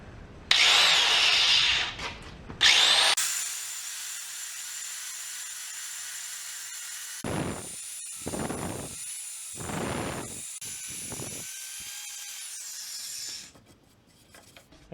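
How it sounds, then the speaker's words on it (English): A power file carving a funnel shape into a wooden port for a disc sander dust-collection adaptor gives a steady, whining motor drone. Short rasping bursts of cutting break in on and off before it winds down. "I'm going to use what's called a power file to carve sort of a funnel shape down into the"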